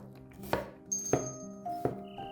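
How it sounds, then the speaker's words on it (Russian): An onion, half red and half white, is sliced with a knife on a cutting board, giving four distinct, fairly close chops at an even pace with faint ringing clinks of kitchenware between them. "Нарезаем одну луковицу."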